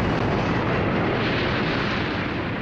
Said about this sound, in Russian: Может быть, это наша артиллерия долбит по нам.